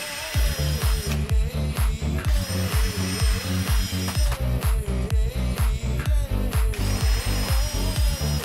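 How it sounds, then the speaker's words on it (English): A power drill works aluminium seat pans for a CH750 aircraft in a workshop, a loud ratcheting mechanical whir broken into rapid repeated bursts, each drilling pass starting and stopping in quick succession, with no talk. "So I'll get this one drilled here,"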